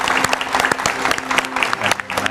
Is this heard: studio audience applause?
yes